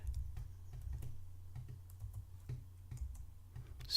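Keys clatter on a computer keyboard as a Linux terminal command is typed on Linux Mint, with a steady run of close, soft clicks and a few sharper taps, no talking.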